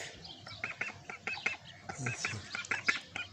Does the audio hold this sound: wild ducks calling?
yes